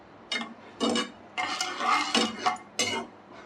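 A spoon scrapes and clinks against a metal pot in several separate bursts, close by, with no voices.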